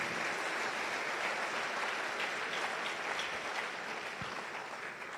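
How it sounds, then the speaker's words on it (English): A crowd at a pharmacy faculty's white coat ceremony claps continuously, a dense, even roar of many hands sustained at steady loudness from start to finish. "Another round of applause for him, please"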